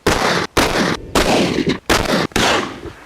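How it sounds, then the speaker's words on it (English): Shotguns fire outdoors in an open field, with a run of loud, close blasts in quick succession, each one a sharp crack with a long rolling echo and brief silent gaps between. "we went out there and shot shotguns"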